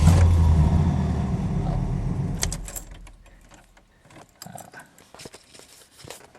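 A 1970 Ford Torino Cobra engine cranks and catches, idling loudly at first before settling, followed by quieter clicks and small mechanical sounds inside the car.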